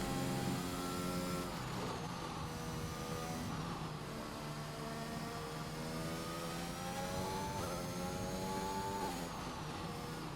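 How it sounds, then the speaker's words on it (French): A Mercedes Formula 1 car in a racing video game holds a steady, continuous high-pitched engine whine with shifting pitch throughout, loud and alone. "Cédricou s'est lancé, on va pouvoir le suivre, le pilote Mercedes"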